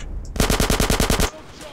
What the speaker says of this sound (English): Take the assault rifle too.